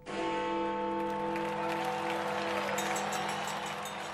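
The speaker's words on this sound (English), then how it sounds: "Everywhere he went, huge crowds turned out to cheer the nation's hero." Large outdoor crowd cheering Winston Churchill, the wartime leader, on his election campaign trail, a steady dense roar of voices held loud throughout with a sustained tonal hum beneath.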